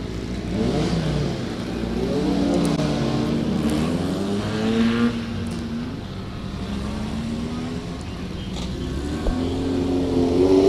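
A Formula First race car in a one-hour race pulls into the pits for a hectic fuel stop. Its engine drones close and steady, with rising and falling revs throughout and no talk over it.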